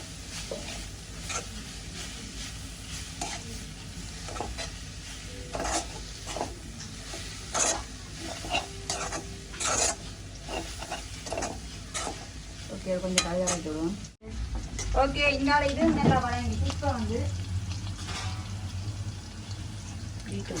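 A spoon scrapes and stirs a turmeric and grated coconut mixture in a hot pan, a close, repeated scraping over steady sizzling, with a person talking intermittently.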